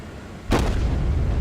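Naval guns firing in a warship battle game: a single heavy boom rings out partway through, followed by a sustained low rumble and rolling noise.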